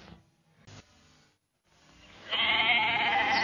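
Sheep bleating in a 1980s television advert: a few quiet, short calls at first, then a loud, sustained wavering bleat close up at the end, with no talk.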